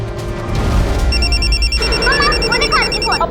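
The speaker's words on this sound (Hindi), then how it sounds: "इसका फोन आ रहा है।" A mobile phone rings with a repeating electronic tone that starts partway through and continues steadily, loud over a background of music and a voice, during a Hindi crime drama scene at home.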